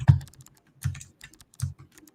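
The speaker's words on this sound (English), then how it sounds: "start typing and then you type, you hit the tab button" Computer keyboard typing in three short bursts of clustered key clicks with pauses between, close and fairly quiet, no voices.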